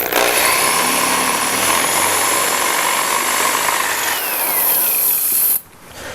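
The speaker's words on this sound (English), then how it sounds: "now that the pilot hole's done, I'll finish it off with" A full-size power drill bores a hole for a boat rod holder, its motor whining steadily and loud for about five and a half seconds before cutting off abruptly.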